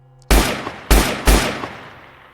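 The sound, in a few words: gunfire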